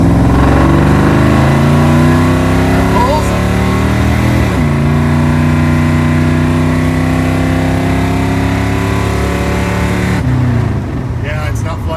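A car with a Holley carburetor and vacuum secondaries accelerates hard through second gear, the engine note climbing steadily, dropping at a shift, then rising again, loud and close with a voice over it.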